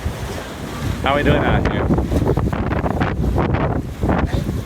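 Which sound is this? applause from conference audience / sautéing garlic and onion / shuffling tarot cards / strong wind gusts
strong wind gusts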